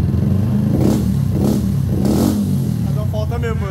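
A Honda Pop 110i motorcycle engine running rough at low revs, misfiring, its steady idle broken by irregular stumbles and pops, with a voice briefly heard near the end.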